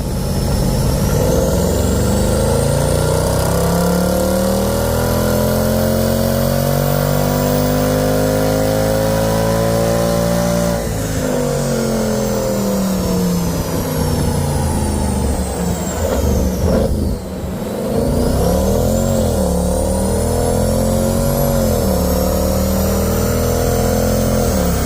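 A car engine fitted with new BMC air filters warms up and revs, its pitch climbing and falling in long sweeps over a constant loud drone, with one brief dip midway.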